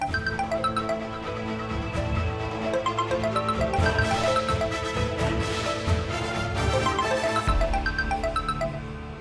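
A mobile phone ringtone plays in a home in a village setting, a steady melodic electronic tune that repeats without pause at moderate loudness and no one speaks over it.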